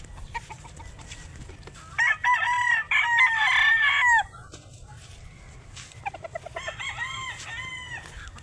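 Chickens and roosters at a live poultry market cluck and crow nearby, with two loud bursts of crowing standing out over scattered clucks and quieter background calls.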